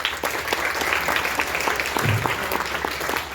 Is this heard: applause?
yes